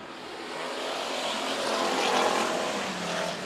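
Race cars roaring at Bakersfield Speedway after contact with the wall, a dense, sustained engine and crowd wash that swells slightly in the middle, loud and continuous with no talk.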